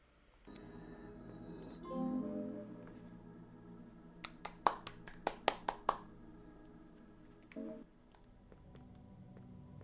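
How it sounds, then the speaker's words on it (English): A short burst of hand clapping, about seven sharp claps in quick succession, rings out over quiet tonal game music, close and crisp, then stops. "Why am I clapping?"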